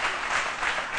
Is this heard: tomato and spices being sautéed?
no